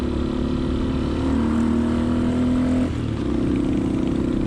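A Honda XLR125R trail motorcycle's single-cylinder engine drones steadily in a low gear, close up and loud, its pitch rising briefly before dropping and settling back into an even hum.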